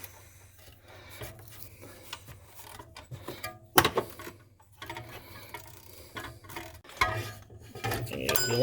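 Ratchet wrench fitted with a 13 mm socket working on a 2006 Ford Explorer V6 engine, with irregular clicking and scraping strokes, some sharper bursts, close up.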